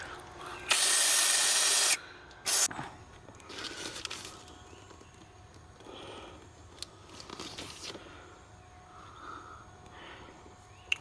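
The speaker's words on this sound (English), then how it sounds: "Just gonna use brake clean." Brake cleaner hisses from an aerosol can in one strong burst of about a second, then a short second spurt, followed by quieter handling noises around a 5.0 Mustang engine bay.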